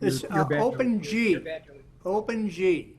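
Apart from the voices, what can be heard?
No everyday noise stands out behind the speech.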